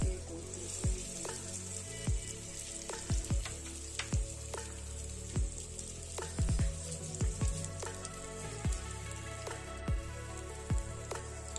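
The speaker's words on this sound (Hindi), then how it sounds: "हल्की आंच पर हमने मछली को पकाना है, तेज आंच पर नहीं पकाना" Fish pieces frying in oil in a pan over low heat, a steady soft sizzle with scattered sharp pops and crackles, close and moderately quiet, with no talking.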